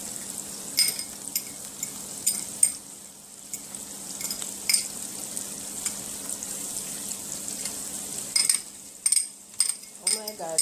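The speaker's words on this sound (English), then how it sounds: "here I have a pot with a piece of butter that is melting. I'm going to add some garlic to this" Garlic sizzling in melting butter in a pot, a soft, continuous frying hiss under intermittent clinks and scrapes of a utensil against the pot, growing busier toward the end.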